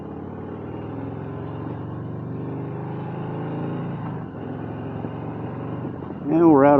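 A Harley-Davidson motorcycle rumbles along on a cold ride, its low engine drone steady and close, with a voice talking over it before the engine swells briefly near the end.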